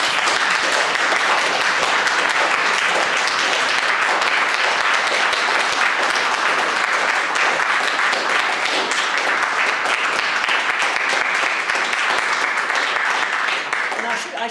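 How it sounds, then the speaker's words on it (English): A lecture audience gives a sustained round of applause, a thick, continuous wash of many hands clapping at steady loudness for about fifteen seconds, tapering slightly at the very end. "if I'd invite everybody for another round of applause"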